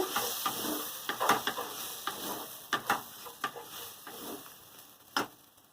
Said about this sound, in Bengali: সোয়াবিনের সঙ্গে মশলাটা ভালো করে কষানো হয়ে গেছে অল্প একটু গরম মশলা দিয়ে দেবো দিয়ে ভালো করে নেড়ে